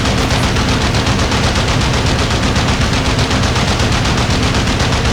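Rapid, continuous machine-gun bursts from a Macchi MC.202 fighter in the IL-2 Sturmovik flight game, loud and dense throughout with no pauses.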